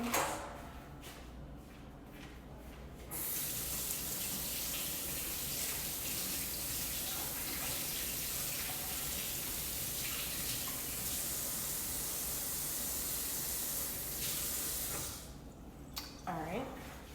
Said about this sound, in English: Rinse it off like the other ones.